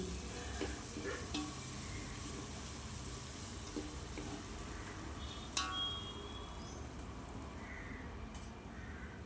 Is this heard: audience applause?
no